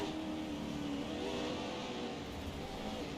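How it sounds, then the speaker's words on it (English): A Pro 4X4 off-road championship race truck's engine roars continuously, revving up and easing off as the driver works the throttle through a tight switchback, loud and close with no talking. "Really getting on and off the gas there through that S section"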